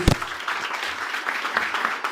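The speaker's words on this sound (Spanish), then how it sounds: "Dale un aplauso a Jesús." A church congregation applauds during a Spanish-language sermon, a soft, diffuse wash of clapping that stays faint and even throughout.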